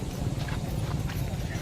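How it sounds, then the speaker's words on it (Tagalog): Horse hooves clip-clop nearby in an uneven rhythm at a horse race while people talk over them. "Marami na po nandito ang kabayo."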